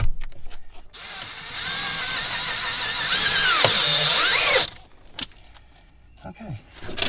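A power drill drives self-tapping screws into the metal dead pedal of a Ferrari 430 Scuderia, giving one sustained high whine that lasts several seconds close by. It ends with clinks and handling noises, and someone speaks briefly.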